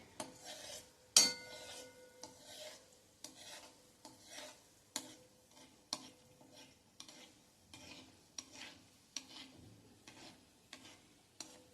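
Mango gulab jamun frying in hot oil on a low flame, a soft steady sizzle under regular scraping and stirring strokes at the edge of the pan.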